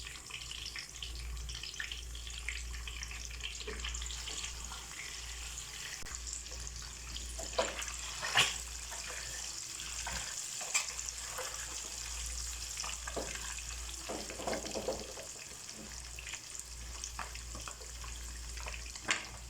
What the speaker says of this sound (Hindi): उनको हल्का सा फ्राई कर लेंगे।